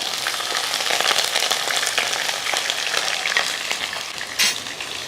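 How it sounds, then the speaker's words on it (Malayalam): Garlic, ginger, green chillies and curry leaves frying in hot oil for a Kerala green mango pickle, a loud continuous sizzle with scraping stirring strokes and a sharp spatter near the end. "ഇഞ്ചി വെളുത്തുള്ളിയും പച്ചമുളകും കരിവേപ്പിലയൊക്കെ ഒന്ന് മൂപ്പിച്ചെടുക്കണം"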